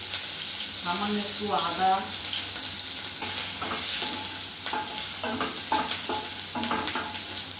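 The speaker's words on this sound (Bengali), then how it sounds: "এর মধ্যে তেল গরম হয়ে গেছে। অল্প একটু জিরে ফোড়ন দিয়ে দিচ্ছি, একটু কাঁচা লঙ্কা, অল্প 2 টুকরো টমেটো" Cumin seeds, green chilli and tomato pieces fry in hot oil, giving a steady close sizzle with stirring, while a voice talks over part of it.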